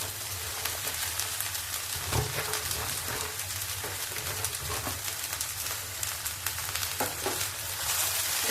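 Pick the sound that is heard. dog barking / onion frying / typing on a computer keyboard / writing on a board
onion frying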